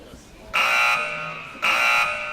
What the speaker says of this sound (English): It's the buzzer. Time for the pledge.